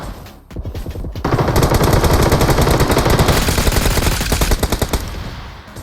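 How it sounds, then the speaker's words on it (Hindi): Rapid automatic gunfire in the BGMI (PUBG Mobile) battle royale game, sustained bursts of close, loud shots firing blindly at an enemy's robot, continuous for several seconds with no talk. "मैं यहाँ पे इसके रोबोट पे अंधी गोली चलाता हूँ"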